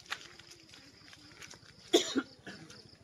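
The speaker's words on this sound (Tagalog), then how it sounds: "May inuubo na po." A couple of sharp coughs burst out near the middle, set against soft, steady footsteps on an outdoor walking lane and quiet outdoor background.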